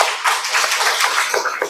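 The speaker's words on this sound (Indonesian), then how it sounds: "mari kita berikan tepuk tangan" Applause from a group in a classroom-style presentation session, dense clapping throughout with a few louder bursts, fairly close.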